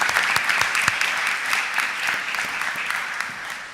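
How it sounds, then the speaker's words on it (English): An audience applauds at a stated meeting of Philadelphia City Council, honoring a retiring recreation department employee, with steady, dense clapping sustained at full strength throughout. "Please join me in giving him a round of applause."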